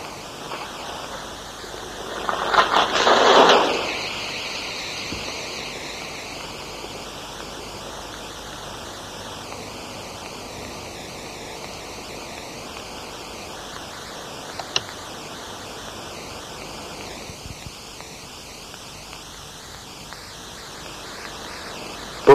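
Superheated water in a glass lab flask erupts in one sudden, loud gush of violent boiling lasting about a second, then quiet hiss with a faint click later.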